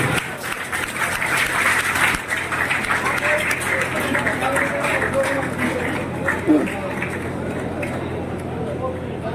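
An audience at a Bairagi community gathering breaks into loud, continuous applause as Roshan ji, a candidate for the president's post, comes onto the stage, with a voice speaking over the clapping.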